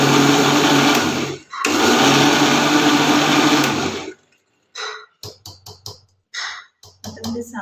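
Electric mixer blending mango with sugar, a loud steady whirring grind in two long runs with a brief pause, followed by several short pulsed bursts.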